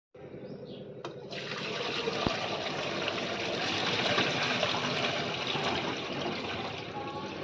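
Steady rushing, splashing water runs continuously as grated potato is rinsed for a homemade fasting snack, loud and close throughout with no voices.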